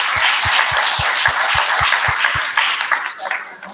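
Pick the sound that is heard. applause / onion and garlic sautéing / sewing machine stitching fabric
applause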